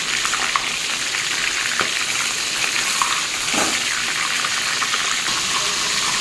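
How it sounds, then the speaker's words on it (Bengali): A whole chicken fries in hot oil in a pan, giving a dense, steady hiss and crackle with a few sharper pops, continuous and fairly close, with no talking. "এবারে গোটা চিকেনকে তেলের মধ্যে ছেড়ে দেওয়া পালা।"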